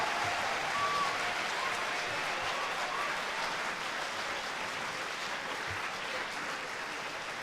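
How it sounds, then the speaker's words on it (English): Sustained applause fills a school hall at a military appreciation day as the crowd honors standing service members, a steady broadband wash of many hands clapping at even loudness throughout. "ladies and gentlemen, you can give them a round of applause."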